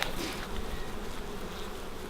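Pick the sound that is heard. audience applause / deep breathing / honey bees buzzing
honey bees buzzing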